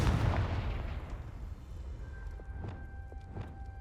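Confringo blasting spell explosion in the game Hogwarts Legacy, a heavy boom at the start that decays into a rumbling tail, followed by a few faint clattering taps and a light tonal shimmer.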